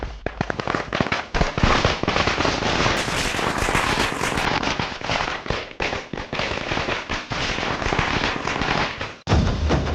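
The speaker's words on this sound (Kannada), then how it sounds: "ಯಾವನ್ ಇಷ್ಟೊತ್ತಿನಲ್ಲಿ ಪಟಾಕಿ ಹೊಡಿತಾ ಇರೋದು?" Firecrackers burst in a dense, continuous barrage of sharp cracks and pops, loud and close, with a brief pause near the end before the bursts resume.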